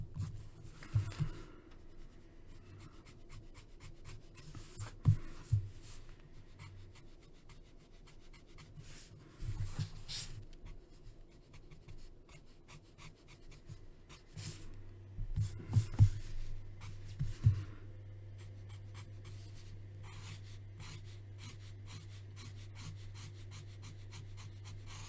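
Pencil scratching and rubbing across paper while sketching a profile portrait, a soft continuous rasp with a few louder strokes, close and quiet, over a steady low hum.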